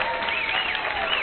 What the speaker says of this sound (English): I don't have taps, but I do have the applause.